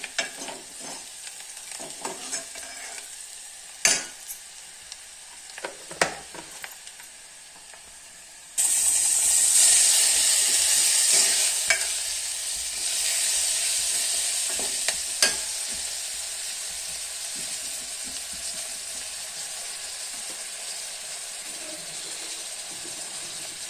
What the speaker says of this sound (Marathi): अशा पद्धतीने आळसूंद छान असं भाजून घेतलेलं आहे आणि चेचून घेतलेलं आहे